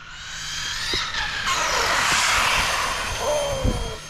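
An Arrma Mojave 8S RC car runs at full throttle, its high electric whine rising and sweeping past loud and close, with gravelly thumps as it bounces over the ground.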